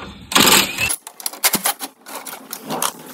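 Hand tools remove 10 mm bolts from the bracket holding the inverter converter on a 2013 Toyota Camry Hybrid, giving a quick burst of close, sharp metallic clicks and rattles with short pauses between.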